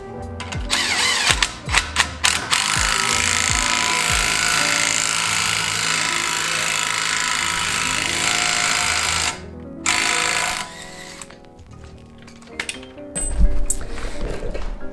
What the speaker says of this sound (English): it's the easiest with the impact gun